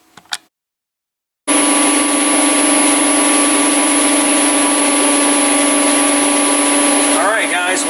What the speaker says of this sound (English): on the lathe, and I'm just breaking in this bearing assembly here